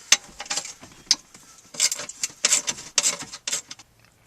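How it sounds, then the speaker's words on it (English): A ratchet wrench clicks in quick bursts while backing out 8mm screws from a metal plate under a Ford dashboard, close and sharp with short pauses between runs. "Remove these 6 8mm screws holding on this metal plate"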